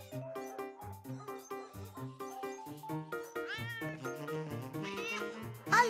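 A cartoon cat in an animated children's show meows repeatedly in a quick series of plaintive, rising calls, close and clear.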